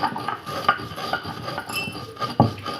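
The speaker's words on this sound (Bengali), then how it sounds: "এই যে শিলডুড়ায় আমি এটাকে ঢেলে নিয়েছি এবার এটাকে আমি ভালো করে মিহি করে বেটে নেব" Rough rhythmic scraping and grinding of stone on stone, with irregular knocks, close up and without speech.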